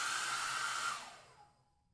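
A hair dryer sound effect in a children's audiobook blows loudly and steadily for about a second, then winds down and fades as the motor stops, heard alone with no voices.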